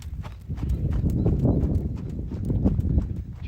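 Hoofbeats of a ridden horse loping on a left lead in an arena, a steady close clip-clop rhythm filling the whole stretch with no talk over it.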